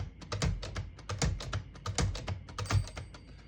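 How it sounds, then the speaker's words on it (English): Keys on a 1956 Smith-Corona Silent-Super portable typewriter, including the tab and clear keys, are pressed in a quick series of crisp, close mechanical clacks at an uneven rapid pace. "I'm just going to go and hit the tab and hit the CL button on each one of those."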